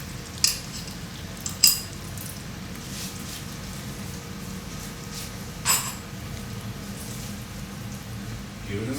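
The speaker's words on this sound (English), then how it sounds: "Give it a nice stir." Butter chicken curry with coconut milk being stirred in a pan, a low continuous simmering bubble under a few sharp spoon clinks against the pan, no voices.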